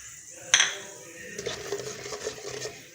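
Fenugreek and mustard seeds hit hot oil for a fish curry gravy, a sharp metallic clink as they drop in, then a light, crackling sizzle and soft stirring against the pan, close and fairly quiet.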